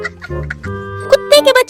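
A hen that has escaped in a village setting clucks loudly and close in a run of short, choppy calls that grow busier toward the end.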